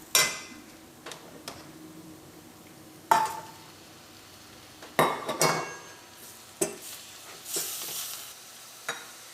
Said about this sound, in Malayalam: ഇതിലേക്ക് നമുക്ക് ബീഫ് ചേർക്കാം.